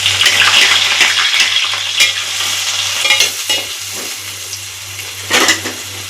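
Curry leaves and onion hit hot oil with a loud, crackling sizzle that fades slightly over the span before swelling again in a short burst near the end, with stirring noises along the way and a steady low hum underneath.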